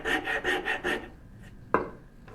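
Five rhythmic rasp strokes scrape across wood while shaping a turning bow saw, loud and close, followed by a quieter pause and a single sharp knock near the end.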